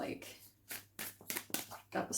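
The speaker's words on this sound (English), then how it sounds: "I'm just gonna shuffle one more time" Tarot cards being shuffled in the hands during a reading, a few quick riffling bursts of papery flutter and slaps at close range, separated by brief pauses, with no talking in between.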